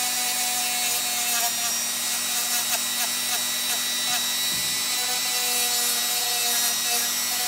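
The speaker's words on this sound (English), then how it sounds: "Now I'm going to do the same with the 400 grit and just smooth it up." Steady hand sanding of a Glock trigger part with 400 grit sandpaper, a continuous close scraping rub with faint rhythmic strokes over a constant background hum.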